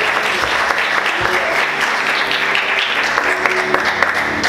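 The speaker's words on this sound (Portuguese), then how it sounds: "Você consegue aplaudir Jesus bem forte?" Congregation in a church applauding strongly, a continuous dense wash of clapping from many people, loud and sustained throughout.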